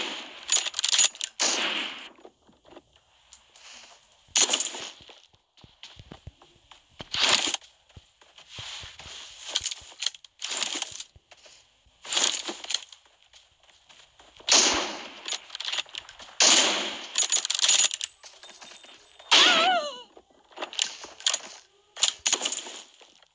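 A video game shooter match in which a sniper-style duel plays out with sharp, loud bursts of gunfire at irregular intervals, separated by short quiet gaps.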